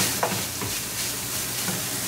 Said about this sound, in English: we're going to cook the spices for 1 more minute